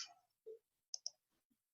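Several sharp computer mouse clicks while working in Tinkercad, quiet and close in a silent room, including a quick double click near the middle, with no talking.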